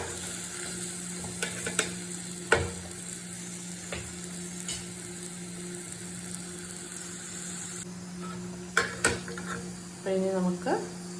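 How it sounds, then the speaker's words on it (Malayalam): Tomatoes sautéing in a pan for rasam give a steady, soft sizzle, broken by several sharp clinks of a spoon against the pan and a short stirring scrape near the end. "ഇനി തക്കാളി ഒന്ന് നല്ലോണം ഒന്ന് വഴണ്ട് വരും"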